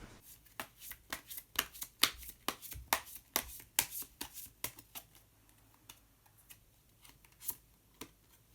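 Tarot cards being shuffled and drawn: a run of crisp, rapid riffling and snapping card flicks, close and fairly loud, thinning out into a few sparse flicks toward the end, with no talking.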